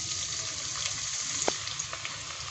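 Small medium-sized onion frying in oil in a pan, a continuous soft sizzle and crackle with a few light pops and a sharp tick midway.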